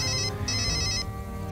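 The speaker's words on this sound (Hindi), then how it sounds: "चेन्नई से फोन है" A telephone rings with a steady electronic ringtone for a call from Chennai, a repeating bright tone pattern that pauses briefly and resumes, fairly close and clear with no talking.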